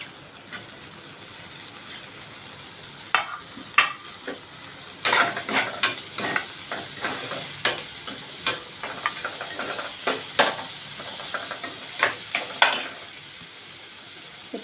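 Chopped tomato and green chilli sizzle loudly in a hot pan while being stirred for dal khichdi, with steady frying hiss broken by repeated scraping stirs, close and without talk.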